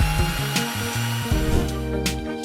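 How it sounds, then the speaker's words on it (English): A small drill with a 4mm bit whines in short bursts, its pitch dropping and rising as it bites into a metal rivet on a Hot Wheels toy car, with a few clicks between runs. "Drill the rivet with 4mm drill bit."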